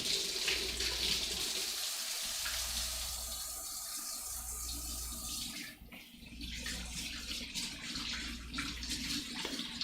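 Tap water runs over a pound of raw ground beef in a bowl in a home kitchen. The flow is steady and close, its pitch shifting slightly as the meat is rinsed, with no one talking.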